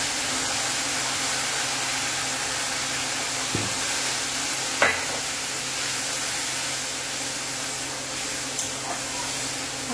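Spices are being stir-fried with fried onion in a pan, giving a steady, fairly loud hiss and sizzle throughout, with a few faint clinks and scrapes of a utensil.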